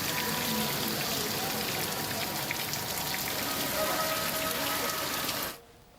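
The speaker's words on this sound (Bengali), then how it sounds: "হঠাৎ বৃষ্টি পেয়ে জনপদে নেমে আসে প্রশান্তির আমেজ" Sudden rain pours steadily onto surfaces outdoors in Bangladesh, a dense, loud, even hiss of drops that continues for several seconds before ending abruptly.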